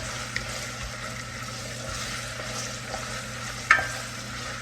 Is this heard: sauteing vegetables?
yes